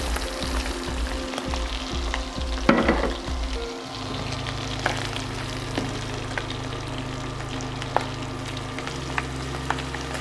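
Shrimp for pad thai fry in a hot pan with a steady, close crackling sizzle, dotted with occasional clicks and a low hum from the stove.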